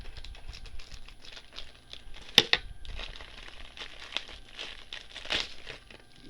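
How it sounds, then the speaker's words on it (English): Plastic bag around a translucent Funko vinyl figure being cut open, giving soft crinkling and rustling with a couple of sharp snips or tears partway through, close and fairly quiet. "we're going to have to cut this bag open and take a look at this translucent Funko."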